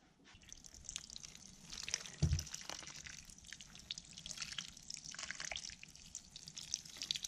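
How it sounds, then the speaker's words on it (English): Tap water running and dripping into a container indoors, a light trickle with scattered drips and splashes, fairly quiet and close, with no talking. "I'm gonna go fill this with water"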